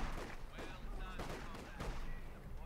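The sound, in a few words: DP light machine gun fire in video game Company of Heroes 2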